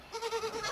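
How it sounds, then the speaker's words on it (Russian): A young goat kid bleats on a farm with a quavering, wavering cry of several pulses. It is close and moderately loud, with no talk over it. "Козленок."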